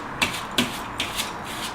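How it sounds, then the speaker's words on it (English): A sanding pad scrubs grout into tile cracks at an old under-tile sink in a 1940 house, with short rasping strokes in a steady rhythm, close by and fairly quiet, with no talking. "I just use a sanding pad."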